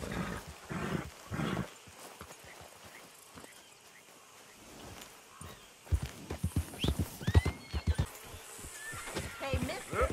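Horse hooves clop in quick bursts with a whinny in Red Dead Redemption 2, alongside people talking and brief rustling noises.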